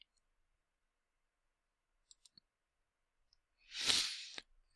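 A computer mouse gives a few faint sharp clicks, followed by a louder brief rustling burst near the end, all close and otherwise quiet.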